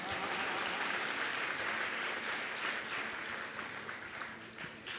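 An audience applauds during a sermon: dense, steady clapping from many hands fills the whole stretch, easing slightly toward the end.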